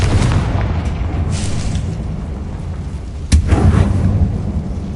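A Confringo spell explosion in Hogwarts Legacy: a heavy, rumbling boom that fills the clip, with a sharp second blast near the end, loud and close.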